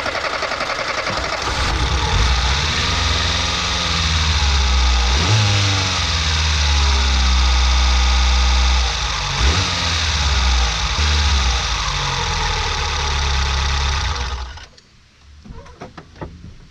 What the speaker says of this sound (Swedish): Så tar jag då runt startmotorn och startar lite.